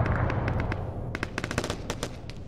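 Suppressing gunfire in an Arma 3 battle: rapid machine-gun bursts crack in a dense, distant rattle over a rumbling low background, growing into a tight cluster of sharp shots toward the end.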